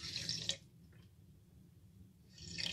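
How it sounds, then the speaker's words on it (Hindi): Spoonfuls of water poured onto half a cup of sugar in a kitchen bowl, two short splashy bursts at the start and end with a quiet gap between, heard close and alone. "इसमें मैं 3 से 4 चम्मच पानी के ऐड कर रही हूँ।"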